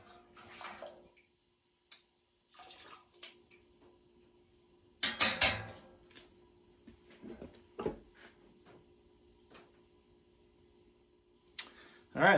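Dry malt extract is stirred into brewing wort in a kettle, heard as intermittent bursts of splashing, scraping and clicking against the pot, one louder flurry in the middle, with quiet gaps between.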